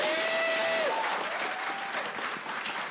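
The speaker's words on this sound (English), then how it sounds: "Can we please give a round of applause to Melissa?" A conference crowd at an ALC '17 session applauds Melissa Harris Perry, a dense, steady wash of clapping holding at a constant level throughout, with a faint voice or whistle rising briefly near the start.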